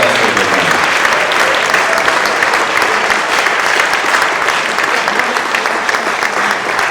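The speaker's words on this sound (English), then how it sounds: "Please join me in giving all of our Stumberg Prize finalists a great round of applause for a great night" An audience at a venture competition final round gives the prize finalists a loud, sustained round of applause, a thick unbroken wash of clapping from many hands throughout.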